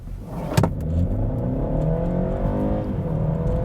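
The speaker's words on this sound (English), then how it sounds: "I've just put it in sport mode, and I'm going to do a 0 to 60" A BMW 330e plug-in hybrid pulling hard from standstill to 60 mph in sport mode on a straight road, engine note climbing steadily with rising, shifting tones heard from inside the cabin, with no talking.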